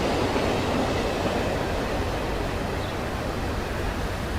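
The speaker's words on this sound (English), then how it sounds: "Oh, look at that. There's an Amtrak train." Amtrak Metroliner train in the game Transport Fever, a steady, broadband rolling rush of rail noise, loud and continuous for several seconds with no talk.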